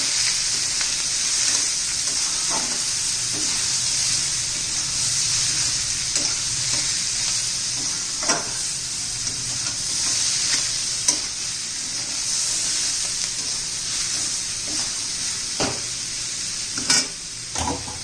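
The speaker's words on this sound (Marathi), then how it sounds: "चवीनुसार मीठ चांगलंसं परतून घेऊया" Chopped bottle gourd curry sizzling steadily in a pan as it is sautéed with salt and garam masala, a constant close frying hiss punctuated by occasional clinks and scrapes of a spoon stirring.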